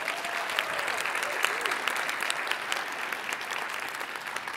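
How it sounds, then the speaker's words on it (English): An audience at the TechCrunch Disrupt 2025 Startup Battlefield applauds the top five finalists. The clapping is steady and fairly faint, a few seconds of dense applause from a hall crowd heard at a distance. "Huge round of applause for our top 5 finalists"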